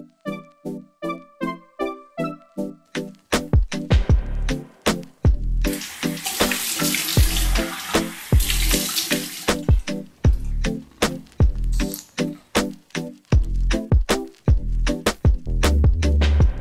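Water running from a bathroom tap while someone washes their face, starting with splashy intermittent trickles and swelling into a steady, loud gushing stream before returning to irregular splashes and drips.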